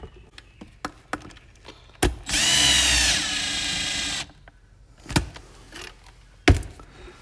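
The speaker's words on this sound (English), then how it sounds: "Using a drill runs the risk of breaking plastic, stripping holes" A power drill whirs for about two seconds while driving a screw during an automatic chicken coop door install, with sharp knocks and handling clatter before and after.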